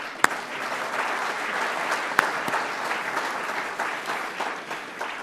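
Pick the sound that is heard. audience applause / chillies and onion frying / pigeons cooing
audience applause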